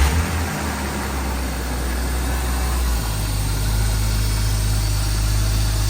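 A BMW M3 engine turns over from cold and settles into a steady, low, smooth idle, heard close with no talking.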